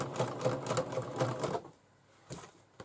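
A sewing machine stitches fabric for a bag in a rapid, rattling burst for about a second and a half, then stops, leaving quiet room noise broken by two faint clicks.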